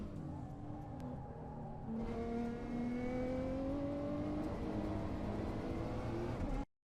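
A race car at full throttle in Assetto Corsa on the Tokachi track, its engine note climbing steadily through the gears as it accelerates down a straight, loud and continuous before cutting off abruptly.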